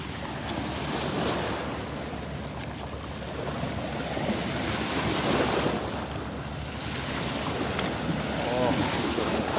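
Waves slap against a fishing boat on open water with steady wind buffeting the microphone, a continuous loud wash swelling and easing.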